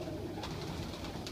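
Young pigeons or doves near a nest give faint, soft cooing calls within a brief, quiet stretch of low outdoor ambience.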